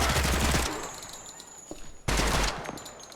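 Gunfire in a video game, in two loud, close bursts of rapid automatic shots. The first burst cuts off into a ringing, echoing tail and a quiet gap, then a second burst follows. No talking is heard.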